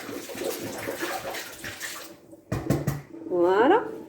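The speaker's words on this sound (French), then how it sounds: "j'ai vidé ma bouteille" Water glugs and splashes as a bottle is emptied, irregular pouring sounds followed by a brief gurgling burst near the end, with a voice speaking over parts of it.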